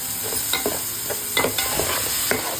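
Onions, green chillies and curry leaves fry in oil with a steady close sizzle, broken by repeated spatula scrapes and stirring taps, and no one speaks.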